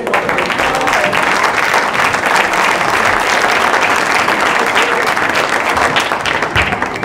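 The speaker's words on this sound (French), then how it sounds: "Merci pour vos applaudissements" An audience at an awards ceremony for a 2022 competition breaks into steady, dense applause, many hands clapping continuously at a constant loud level for the whole stretch.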